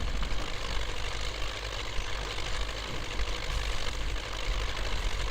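An MTZ 82.1 tractor engine idles in the off-road game Spintires: Mudrunner, a steady, close, low diesel rumble with a rough knocking rhythm throughout.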